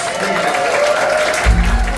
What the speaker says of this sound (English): how about a nice round of applause for a bass player